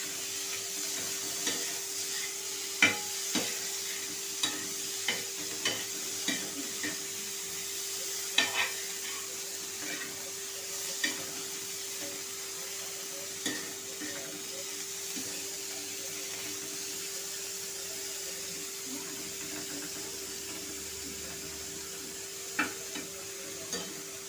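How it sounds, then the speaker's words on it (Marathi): Baby prawns sizzle and fry in a pan while being stir-fried. A soft, steady hiss runs throughout, broken by light, regular scrapes and taps from stirring, and everything stays faint with no talking. "आता ह्याच्यात हे मासे टाकायचे आहेत। हे छान परतून घ्यायचे आहे आपल्याला।"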